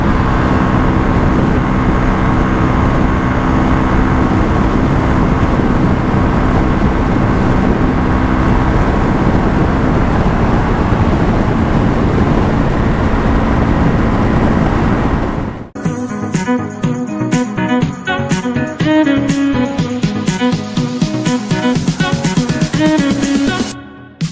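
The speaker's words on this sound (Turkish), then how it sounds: "Egzoz sesi çok güzel ya." A loud, continuous Honda CL250 motorcycle engine and exhaust rumble running for about fifteen seconds, then giving way to music.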